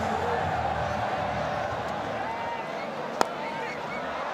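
A sold-out cricket crowd roars at Gaddafi Stadium during a night T20 match between Pakistan and South Africa, a constant distant din of cheering under a commentator's voice.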